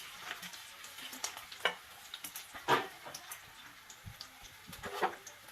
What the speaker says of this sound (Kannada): ಕಡಿಮೆ ಉರಿ ಇಟ್ಟು ಚೆನ್ನಾಗಿ ಫ್ರೈ ಆಗಲಿ ಇವು ಎಲ್ಲನೂ